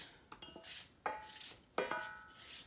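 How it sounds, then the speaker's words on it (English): A knife cuts apples into thin slices, giving a few sharp, close, distinct chopping clicks against a board, spaced irregularly with quiet between them. "just slice the apples thinly"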